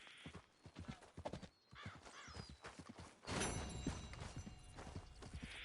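Horse hooves clip-clop in a steady rhythm in Red Dead Redemption 2, with a loud whinny rising midway, then a busier stretch of hoofbeats and game ambience; no talk over it.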